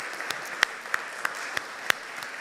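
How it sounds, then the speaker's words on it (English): A worship congregation in a church applauds the choir: soft, steady clapping with a few sharper, closer claps standing out in a loose rhythm. "If you applaud loudly enough, they'll hear it down there."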